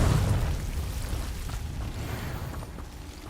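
A Confringo fire spell blast in Hogwarts Legacy opens with a heavy low boom that slowly fades into a rumbling tail, fairly quiet overall and with no voices.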